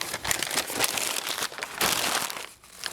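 Brown packing paper crumples and crinkles continuously up close while a box of aftermarket truck taillights is unpacked, with loud rustling bursts and brief pauses.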